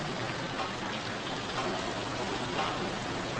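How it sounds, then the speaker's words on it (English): Steady, even rainfall hisses without a break, moderately loud and unchanging, with no voices or other sounds over it. "I hate the rain."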